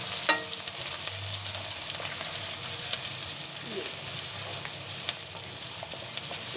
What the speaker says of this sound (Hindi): अब मैं इसमें प्याज ऐड कर रही हूँ।